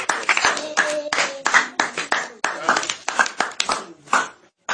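A church congregation clapping and applauding during a lively service, loud uneven bursts of hand claps close by, mixed with shouting voices and some sustained tones.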